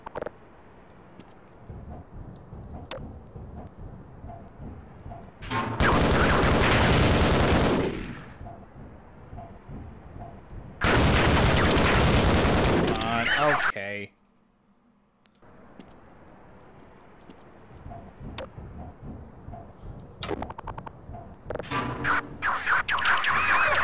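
Half-Life combat: two long, loud bursts of automatic gunfire roar for several seconds each, separated by quieter stretches of game ambience. A sudden drop to near silence follows, then further sharp shots and a blast close the sequence.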